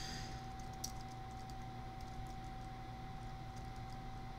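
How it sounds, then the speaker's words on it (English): Soft, quick keystrokes on a computer keyboard during a live coding session, scattered clicks faint beneath a constant steady hiss with no talking. "I'm typing it in on my other screen just so I don't forget"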